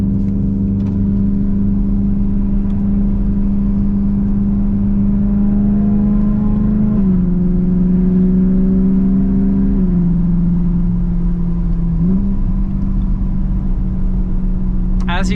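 A BMW E92 M3 engine hums at steady revs while driving, its drone stepping down in pitch twice as the car shifts, a loud continuous whir throughout.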